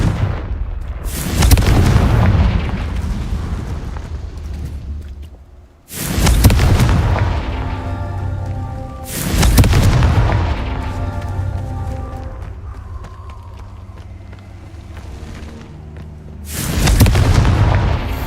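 Confringo fire spells burst one after another in the Hogwarts Legacy video game, each a loud booming blast with a rumbling tail that fades off. Four heavy explosions are spaced a few seconds apart.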